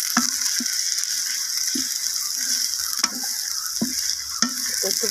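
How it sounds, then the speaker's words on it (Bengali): Onion, garlic and green chili fry in a pan with a steady hiss of sizzling oil, broken by several scraping stirs of a spatula, close and alone. "পেঁয়াজ, রসুন, কাঁচামরিচ এটা এখন একটু ভেজে নিব।"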